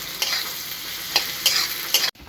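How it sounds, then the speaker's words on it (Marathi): Onion sizzles steadily in hot oil in a kadhai with curry leaves and bay leaf, with a few scraping stirs before the sound cuts off abruptly. "आता कांदा भाजलाय पूर्ण?"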